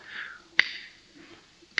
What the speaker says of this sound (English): some of the Vedic books suggest you go around your knee and snap your fingers